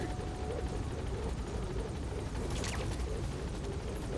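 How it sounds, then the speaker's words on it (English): A helicopter in the video game Metal Gear Solid V: The Phantom Pain gives a continuous rotor and engine drone, fairly close and steady, mixed with faint game background noise. "Hop in the chopper."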